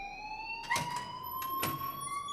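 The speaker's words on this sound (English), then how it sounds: "please turn off that alarm since that's your job" An alarm ringing in the video game Life is Strange, a steady electronic tone running throughout, broken by two short bursts of louder noise.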